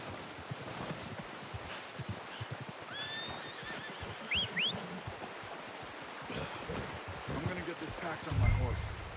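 Horse in Red Dead Redemption 2 whinnies in two short rising calls midway through, set against a steady outdoor ambience of water or wind, with brief speech near the end.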